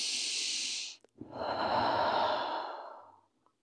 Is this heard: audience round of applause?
no